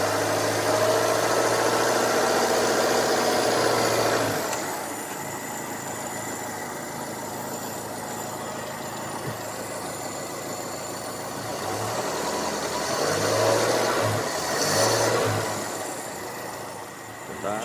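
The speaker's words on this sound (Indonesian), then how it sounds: "Ini suara nyemprotnya keluarnya bensin terdengar di karburator." A small carbureted engine, a Daihatsu Taruna, idles with a steady low rumble and a hissing, sputtering texture from fuel spraying too heavily in the carburetor, rising and falling slightly in loudness throughout.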